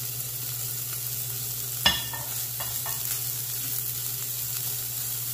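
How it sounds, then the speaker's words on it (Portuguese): Chopped bacon, about 150 grams, sizzles in a hot pan with no oil, a steady soft frying hiss with one sharp clatter near the start and a few small pops, heard close and alone. "Aqui eu tenho 150 gramas de bacon picadinho. Não vou botar óleo a princípio, tá? Vamos ver aí se esse bacon vai soltar gordura."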